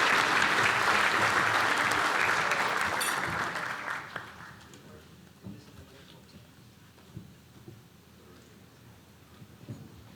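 A large audience at the Weslaco State of the City 2020 event applauds the city team, loud and dense for about four seconds, then fading into scattered claps and light room noise.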